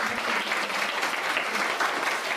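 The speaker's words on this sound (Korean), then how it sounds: "다시 한번 큰 박수" Steady applause from an audience at a book talk on the theme of care, dense, even clapping filling the room with no voices over it.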